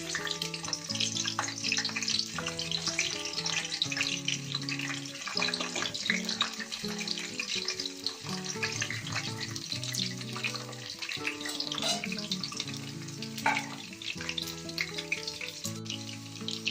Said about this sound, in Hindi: अब बातों में देखें तेल गरम हो गया है। इसमें मैं पहले शिमला मिर्ची अच्छी तरह से फ्राई कर लेंगे।